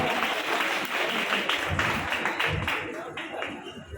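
An audience at a Hindi poetry recital breaks into applause, a thick wash of many hands clapping, with voices mixed in as it gradually thins out.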